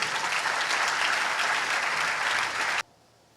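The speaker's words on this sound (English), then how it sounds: "Clap for yourselves again." A crowd of Nigerian schoolchildren claps together in dense, loud applause that runs steadily for nearly three seconds, then cuts off abruptly into near silence.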